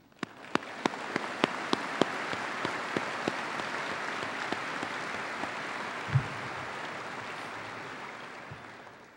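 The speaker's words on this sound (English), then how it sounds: "please join me in a round of applause for these generous Citadel families." An audience applauds steadily at a Citadel ring ceremony, a sustained wash of clapping with a few sharper claps standing out near the microphone.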